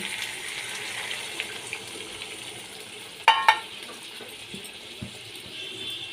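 Spice water going into a hot pan of hilsa fish curry, a steady low sizzle and bubbling hiss with a couple of sharp metallic clanks from the pan near the middle.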